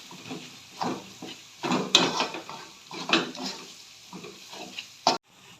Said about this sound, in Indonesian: Nih, kita aduk-aduk.